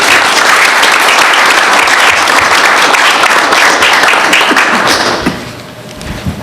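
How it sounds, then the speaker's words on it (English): City council audience breaks into loud, dense applause for Governor Ivey, close sustained clapping for about five seconds before quickly dying away into murmuring room sound. "I still would like to give her a round of applause."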